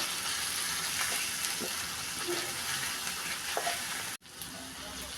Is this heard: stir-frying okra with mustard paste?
yes